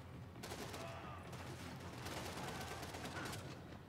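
Sustained gunfire from the video game Max Payne 3, a continuous rattling barrage of shots with heavier bursts throughout, steady and fairly loud with no talking.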